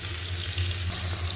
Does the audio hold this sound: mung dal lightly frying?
yes